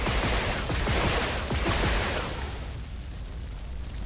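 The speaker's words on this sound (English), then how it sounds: "Shoot everything." Gunfire and explosive blasts in the video game Duke Nukem Forever, a dense loud barrage of overlapping shots in the first two seconds that thins into a rumbling wash.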